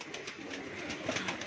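Domestic pigeons, including black-and-white birds, kept at a home loft in Mumbai, giving soft low coos amid a steady, hissy ambient background, with no voices.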